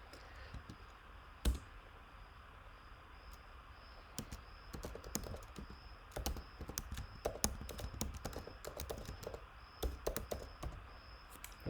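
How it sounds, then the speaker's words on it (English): Fingers type on a Mac computer keyboard in a quiet room, faint sparse key clicks at first, then a quicker irregular run of taps and clacks, no voices. "I'm able to simply type in Hindi by making use of the inbuilt keyboard method"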